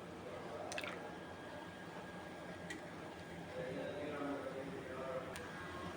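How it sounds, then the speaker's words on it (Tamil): Ragi flour is stirred with water into a thin batter, giving soft, faint squelching and swishing with a few light clicks against the vessel over a quiet room background. "இந்த அளவுக்கு தண்ணியாக கரைச்சிக்கணும் நீங்கள்."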